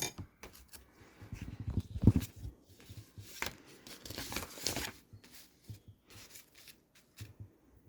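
Yarn being snipped off a crocheted flower-motif bag, with soft scattered cutting and handling noises, a few sharper snips mixed with rustling, close and fairly quiet, no talking.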